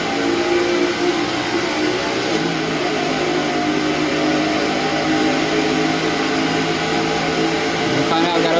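A race car engine in NASCAR 08, a Modified running at Boat or Raceway Park, drones steadily at high revs for several seconds, with a slight change in pitch partway through as the car shifts into fourth gear.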